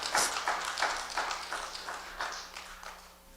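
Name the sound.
church audience applause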